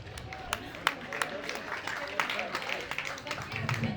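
A talk show audience in Juba claps and cheers to welcome comedian MC Kash onto the stage, a dense patter of applause beneath a host's voice.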